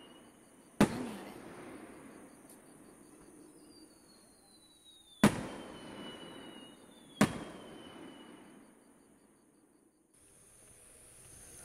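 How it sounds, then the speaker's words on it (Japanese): Three sharp firework bursts at a fireworks festival crack out several seconds apart, one with a faint whistle trailing before it, over quiet night ambience. "花火も無事終わりました。"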